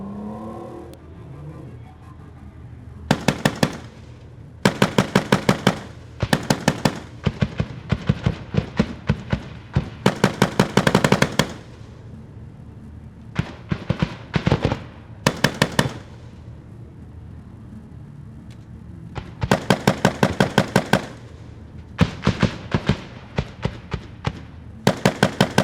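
A Wemtech AGL 40mm automatic grenade launcher fires at targets during a firepower exercise, giving loud rapid bursts of sharp reports with short pauses between strings and a rumbling background.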